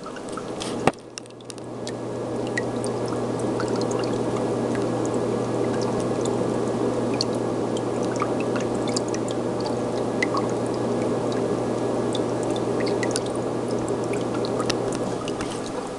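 A Fluval 305 canister aquarium filter paired with a Submariner UV sterilizer pushes water around the tank, producing a steady, continuous pouring and bubbling wash with a low hum, close and unbroken throughout.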